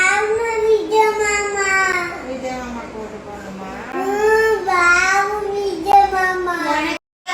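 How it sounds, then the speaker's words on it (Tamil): A small child cries in long, wavering, tearful wails that blend with sobbing speech, close and continuous for several seconds before cutting off. "இங்க ஒரு குழந்தை பாருங்க, விஜய்க்கு ஓட்டு போட சொல்லி அழுகுதுங்க."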